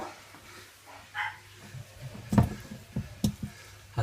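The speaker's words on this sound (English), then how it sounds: "dog stop barking" A dog barks in a few short, sharp bursts indoors, with faint thumps and household clatter between the barks.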